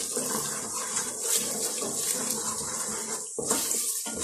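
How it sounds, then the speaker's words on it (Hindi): Water poured into a pan of frying masala while cooking chana keema, a steady hissing splash and sizzle running continuously, briefly cutting out near the end before resuming, close and fairly loud. "हल्का सा पानी डालती हूँ ताकि अच्छी तरह भून लो।"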